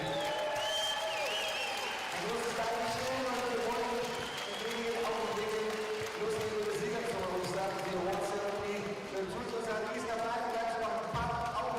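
Crowd applause and rhythmic clapping at an indoor athletics jump meeting in Cottbus, a steady dense wash of hands heard under music and talk over a public address.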